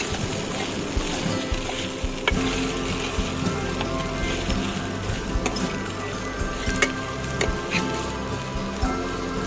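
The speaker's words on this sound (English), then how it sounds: "Now add the sabudana mix to it. Give it a nice mix so that the ghee will get coated on everything." Sabudana khichdi mix stirred through hot ghee in a pan, making a continuous close sizzle with the soft scrape and clatter of a spoon moving through it, without speech.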